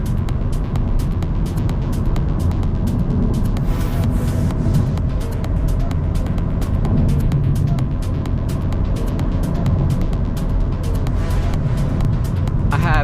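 A 2024 Honda Civic Si on stock all-season tires cruises along back roads, its steady engine drone and road rumble filling the cabin continuously with no voices.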